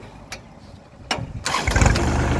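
A Kubota L3408 tractor's engine cranks and catches, a few short clicks and bursts before it rises into a louder running rumble that continues to the end.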